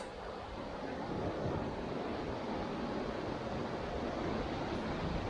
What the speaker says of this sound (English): All that water tries to rush and it tries to squeeze through the narrow gap.